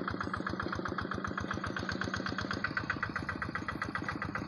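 A Quick hand tractor fitted with a Kubota 6.5 HP engine runs steadily in a rice paddy, its rapid even chugging pulse close and continuous throughout, with no talk over it.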